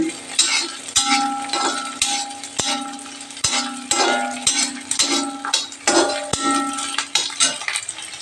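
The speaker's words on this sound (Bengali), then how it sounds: "কাঁচা লঙ্কা দিয়ে একটু ভেজে নিচ্ছি" Green chillies fry with onion and garlic in a pan while a metal spoon stirs and scrapes repeatedly, sharp clinks and knocks over a continuous sizzle, close and fairly loud, no talking.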